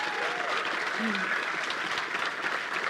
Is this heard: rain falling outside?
no